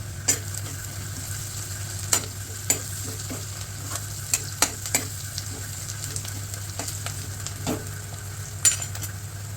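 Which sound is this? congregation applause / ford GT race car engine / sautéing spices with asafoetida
sautéing spices with asafoetida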